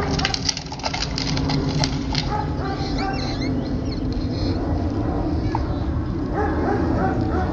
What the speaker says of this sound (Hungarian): Ott a Berci kutya.